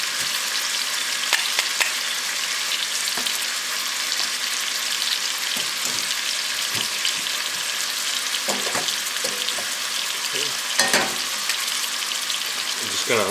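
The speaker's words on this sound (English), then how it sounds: "Saute those onions real good." Diced onions sauté in a soup pot with chicken and little smoked sausages, giving a steady close sizzle and crackle, with intermittent scrapes and clicks of stirring.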